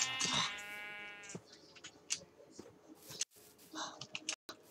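A Minecraft sheep bleats once at the start, loud and close, followed by quieter game clicks and soft noises, with brief speech nearby.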